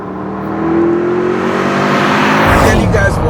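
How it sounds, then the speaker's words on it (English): Engine noise of a Mercedes-AMG Black Series heard from inside the cabin, a steady loud drone that rises in pitch as the car accelerates, with a rushing surge toward the end. "the engine noise, there's a lot happening inside here"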